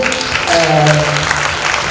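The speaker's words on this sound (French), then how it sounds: "je vous demande d'applaudir" Audience applause for a government minister at a women's empowerment event in Yamoussoukro, a loud, dense burst of clapping with cheering voices mixed in, filling the whole stretch.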